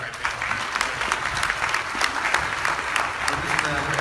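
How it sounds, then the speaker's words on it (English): Audience applause fills a room after a public health talk on cannabis monitoring, a dense, even patter of many hands, steady and moderately loud throughout with no break. "How about a round of applause for us right there?"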